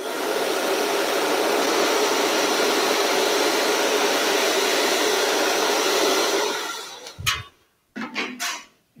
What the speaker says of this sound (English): Give yourself a bit of help with a bit of a hair dryer.